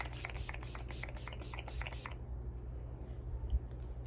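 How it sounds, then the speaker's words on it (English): Setting spray is misted onto a face during special-effects decaying flesh makeup, as a quick rhythmic run of about eight short, close hissing pumps, then near silence. "let's spray our face."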